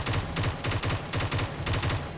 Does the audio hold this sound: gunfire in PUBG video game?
yes